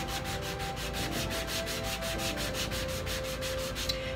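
Sandpaper of roughly 150 grit rubs over a painted wooden desk in steady, rapid back-and-forth strokes, close and continuous, with no one speaking.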